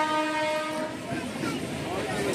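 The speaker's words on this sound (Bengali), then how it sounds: "পাশেই দেখুন লাইন দেওয়ার একটা ট্রেনও যাচ্ছে" A train rolls past beside the crowded Thakurnagar Baruni Mela fair at dusk. Its horn sounds steadily at the start, then fades into a moderately distant rumble under faint background voices.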